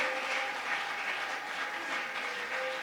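A church congregation applauds to welcome a woman, a steady, even patter of many hands clapping at a moderate distance, with a faint sustained tone running beneath.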